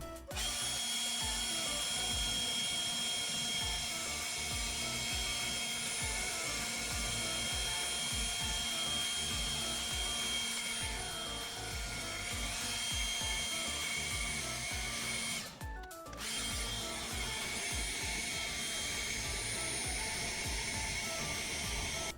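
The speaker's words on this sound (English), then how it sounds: "When it dies down like this, you hit it with the leaf blower and it'll come right back up." A leaf blower forces air onto a smouldering bonfire, its steady loud roar and whine running continuously with a brief dip near the end, heard alone without talk.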